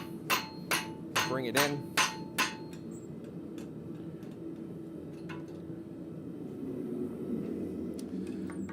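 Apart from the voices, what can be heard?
hammer striking cloak pin on a forging jig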